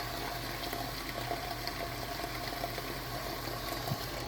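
Water pours steadily into a container outdoors, a continuous dense splashing rush at even loudness throughout.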